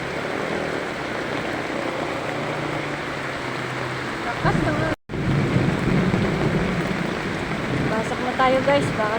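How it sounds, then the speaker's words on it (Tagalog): Thunder rumbles through heavy, steady rain during flooding, a loud continuous wash of downpour and rushing water with a low roll of thunder, and a person talks over it. "Delikado yung kulog, kulog na yan."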